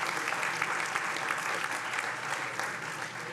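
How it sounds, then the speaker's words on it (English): An audience at a school-hosted pirate challenge event applauds its sponsors, a steady, even roar of many hands clapping at moderate level with no talk over it. "another round of applause for our sponsors"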